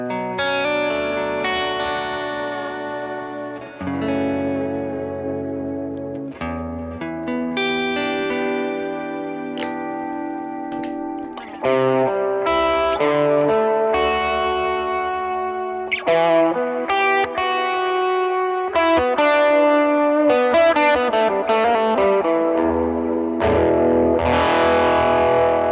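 An electric guitar plays through a Tone King Imperial pedal with reverb and delay added, giving a warm, driven worship-style tone of sustained chords and melodic notes with lingering echo tails, loud and alone.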